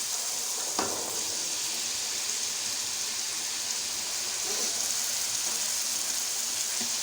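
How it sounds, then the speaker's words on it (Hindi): Masala and boiled chickpeas fry in a pan for Lahori chaanay, giving a steady, fairly quiet broadband sizzle with a few soft clicks of stirring and no voices. "मसाले को तकरीबन 2-1 मिनट अच्छी तरह भूनूंगी। उसके बाद मैं अपने चने इसमें ऐड कर दूँगी।"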